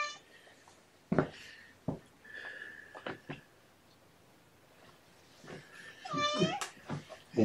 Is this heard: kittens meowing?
yes